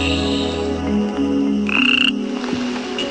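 A bubble nest frog croaks, a loud close call with a series of repeated croaks over about three seconds, heard alone without talk.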